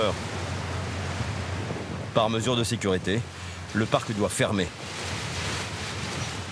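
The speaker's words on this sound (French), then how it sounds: "Des rafales de vent à plus de 115 km/h." Strong tramontane wind gusting by the sea at a seaside Christmas park in Barcarès, a broad roaring rush buffeting the microphone throughout, loud and steady, with someone speaking briefly over it midway.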